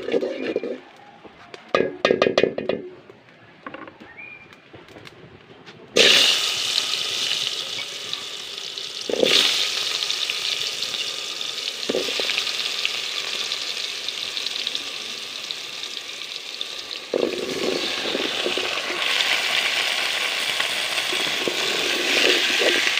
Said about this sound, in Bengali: তৈলটাতে এই যে এখন একটু মিষ্টি কুমড়াটা দিয়ে দিব